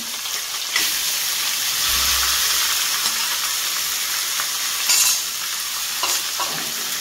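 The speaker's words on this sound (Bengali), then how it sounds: "এবারে আমি কড়ার মধ্যে চিংড়ি মাছ দেব। ওই তেলটার মধ্যেই আমি চিংড়ি মাছটা দিয়ে দেব।" Tiny prawns frying in oil in a wok, a loud continuous hiss and sizzle with a few bursts of spattering and stirring, close up and without any talking.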